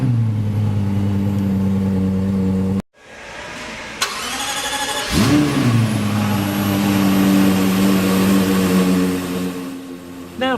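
A 2012 Lexus LFA Nürburgring Edition V10 fires up after a brief silence: a sharp starter burst, a loud revving flare, then a steady, strong idle that holds close and alone to the end.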